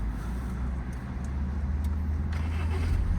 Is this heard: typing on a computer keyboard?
no